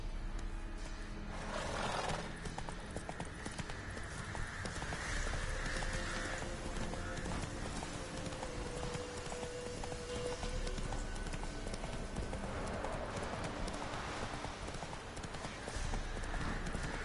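Roach, a horse in The Witcher 3: Wild Hunt, gallops in a steady, loud rhythm of hoofbeats that runs throughout, with a short voice and game ambience beneath.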